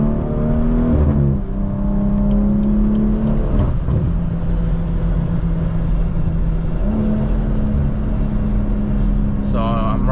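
BMW 340i with a B58 engine, straight pipe and catless downpipe, droning loudly from inside the cabin at a steady hum that drops and then climbs again, with a brief rev near the end.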